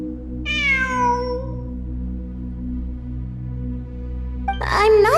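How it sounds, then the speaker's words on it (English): A cat meows among ruins, one clear drawn-out cry near the start followed by a louder, rougher call at the end, over a steady low electronic hum. "It really is a cat."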